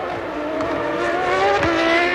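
A 1994 Formula 1 car with a Ford V8 engine revving to 14,500 rpm races at the Brazilian Grand Prix, its loud, steady high-pitched engine scream sustained throughout with no voices.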